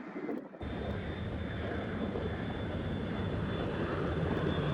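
An airplane at Boston Logan Airport gives off a loud, steady roar that starts abruptly after a brief quiet moment and holds strong, broad and close throughout, with no voices.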